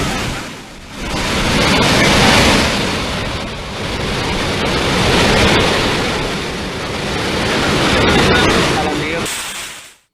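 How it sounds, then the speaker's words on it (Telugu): Heavy, continuous rain in Telangana pours as a loud, broad rushing wash that swells and eases in waves, stopping abruptly at the end. "ఎడతెరిపి లేకుండా కంటిన్యూస్ గా కురుస్తున్న ఆ వర్షపు నీటితోటి ఇటు అనేక ప్రాంతాలు కూడా జలమయం అయిపోయాయి"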